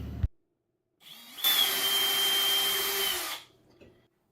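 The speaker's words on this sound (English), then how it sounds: "Now go ahead and make sure you pre-drill all the holes." A power drill bores pilot holes in shelf braces, with one steady, loud whine of about two seconds rising after a brief start and winding down, alone in a quiet room.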